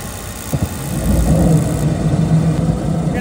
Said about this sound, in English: Inducer's on.